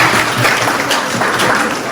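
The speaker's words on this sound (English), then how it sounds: "Please give a round of applause for yourselves." Applause from the audience at a Microsoft Learn Student Ambassadors information session, a steady dense patter of clapping that holds for the full two seconds at fairly close range.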